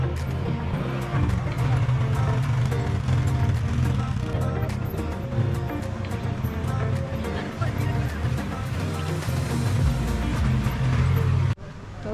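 An ATV at an adventure park in Yelagiri runs with a steady engine drone and rough mechanical rattle. It continues at a fairly even level for about eleven seconds before dropping off sharply, and voices can be heard faintly.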